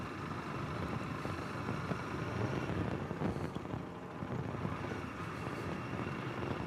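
A Honda CRF300L dual-sport motorcycle carrying two riders rolls over wooden boards near Beaver, Arkansas, its steady engine drone and tire rumble mixed with constant wind buffeting, loud and continuous throughout.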